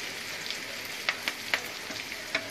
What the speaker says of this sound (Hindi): अब ये करी पत्ता भुनने के बाद